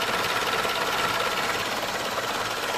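A cold engine with twin small fans and double-electrode spark plugs idles slowly, a steady, close, busy mechanical clatter with an even rapid rhythm and no talk.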